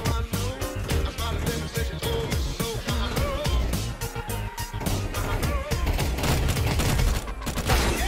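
Dense, rapid bursts of gunfire from a shotgun and other weapons in the video game CS2, loud and near, almost continuous over about eight seconds.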